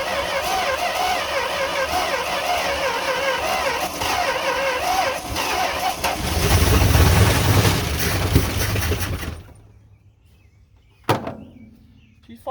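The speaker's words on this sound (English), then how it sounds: "let me turn the key on. See if she'll fire up." Engine of a 1971 Dodge D100 truck abandoned for decades, cranking and running with a loud, wavering, uneven rattle that swells and then cuts out, followed by quiet and a sharp single knock or slam.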